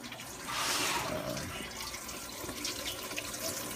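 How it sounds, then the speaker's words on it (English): Water trickling down over hanging roots in an aeroponics growing system, a soft steady splashing trickle that swells briefly and then settles, quiet and close. "the water pretty much trickle down directly over the roots"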